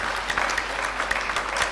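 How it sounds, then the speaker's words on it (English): Steady audience applause at a sustainability education conference plenary session, a dense, even wash of many hands clapping that holds at a moderate level for its short duration, with no voices rising above it. "So he deserves a round of applause"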